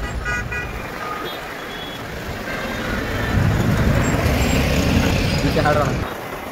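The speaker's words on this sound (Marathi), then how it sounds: "पुलावर ट्रॅफिक सगळं जाम आहे." Traffic is jammed on a bridge on the way to Kolhapur, with a continuous rumble of engines and an occasional horn under close talking.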